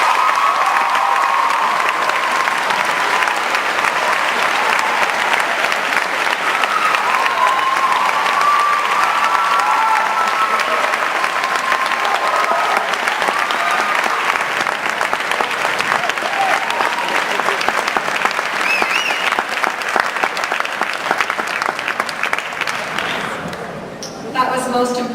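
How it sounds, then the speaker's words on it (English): Sustained, loud ovation from a graduating secondary school class and audience after the valedictorian's speech, with thick clapping and cheering mixed with voices, continuing for a long stretch before tapering at the end. "give yourself a round of applause"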